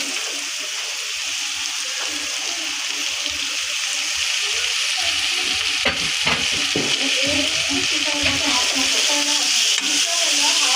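Onion and tomato frying in oil in a pan for an okra dish, giving a steady bright sizzle with occasional stirring scrapes and clinks.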